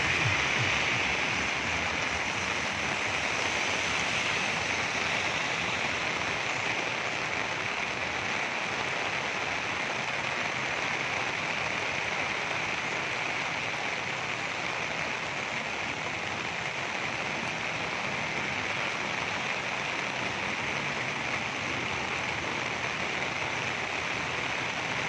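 Floodwater rushes steadily through a flooded area in Kuantan, a dense, unbroken hiss and roar that holds at an even, fairly loud level with no voices.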